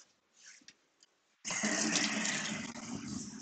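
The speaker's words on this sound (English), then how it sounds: "I'm pouring some water." Water pours steadily into a sink at a cyanotype print-washing station, starting abruptly after a second of near quiet with a few faint clinks, then running loud and continuous to the end.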